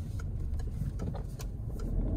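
A petrol Peugeot 308 with the 130 engine accelerating in sport mode, heard from inside the car as a steady mid-pitched engine drone rising slightly, with no talking.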